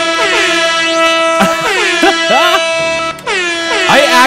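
Loud, blaring air horn blasts repeat in quick, overlapping bursts with wavering pitch, very close and harsh, filling the whole stretch in a chaotic burst of honking.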